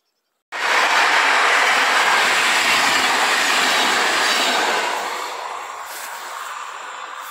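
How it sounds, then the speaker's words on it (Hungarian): A Mezőtúr passenger train rushes past close by in the Hungarian countryside, bursting in suddenly with a loud, steady roar and rolling wheel noise, then slowly easing off as the cars pass. No one speaks. "Ez ugye a mezőtúri vonat volt"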